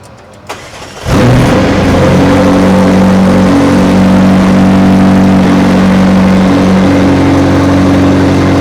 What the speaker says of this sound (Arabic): العربية دي الماكلارين سينا، دي عربية مميزة جدا من ماكلارين، دي بتطلع 789 حصان